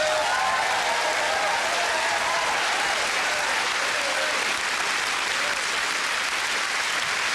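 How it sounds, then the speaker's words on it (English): A theatre audience at a 1995 stand-up comedy open mic award show breaks into loud, sustained applause and cheering to welcome comedian Daniel Kitson, a dense continuous roar of clapping that holds steady throughout. "Put your hands together, scream applaud, go mad, and welcome Daniel Kitson."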